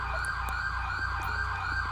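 An ambulance siren wails continuously in the police game GTA V LSPDFR, a steady electronic tone held over low engine rumble, with no talking.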